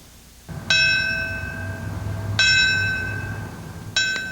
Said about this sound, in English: Bells also tolled today in New York's Battery Park.